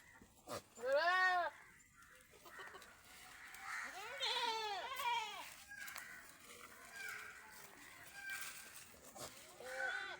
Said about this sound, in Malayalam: മൊത്തം 6 ആട്ടുംകുട്ടികൾ, 5 മുട്ടൻകുട്ടികളും 1 പെടക്കുട്ടിയും